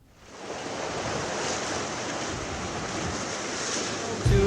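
George Harrison swirls water in a tin bath to imitate ocean surf for a Beatles recording, making a steady, full, wave-like wash of hiss that runs throughout, with a brief thump at the very end.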